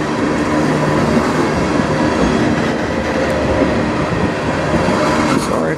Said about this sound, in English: Probably be a fair-sized train.